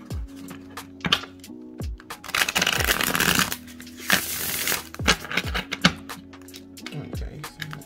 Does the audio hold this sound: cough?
no